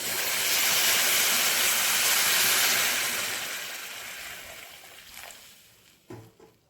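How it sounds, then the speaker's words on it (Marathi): A pot of guar bean amti, a country-style curry, starting to boil: a loud, steady hiss of steam and bubbling gradually fades, followed by a few faint clinks and knocks near the end. "आमटी आता उकळायला लागलेली आहे"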